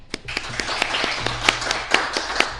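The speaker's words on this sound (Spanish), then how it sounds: "os pido un aplauso de bienvenida para él" Scattered clapping from a lecture audience welcoming a visiting professor, a few distinct claps in a sparse, moderately near patter rather than a full ovation.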